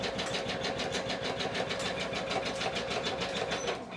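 Embroidery machine stitching a quilt at high speed, a close, steady rapid mechanical chatter with an even pulsing rhythm throughout.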